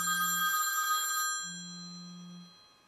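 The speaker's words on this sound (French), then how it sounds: "Je suis désolée pour le téléphone, mais j'ai pas envie de me lever." A telephone rings twice indoors, two clear electronic trill bursts separated by a short pause, fairly faint and with no talking over them.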